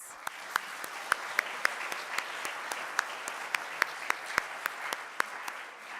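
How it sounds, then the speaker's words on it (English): Applause at an athletic awards ceremony for the gold sponsors: a small crowd clapping steadily with sharp, distinct claps standing out, moderately loud and continuous throughout. "Can we get a big round of applause for our gold sponsors, please?"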